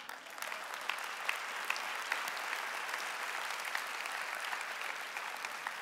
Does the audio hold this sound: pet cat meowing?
no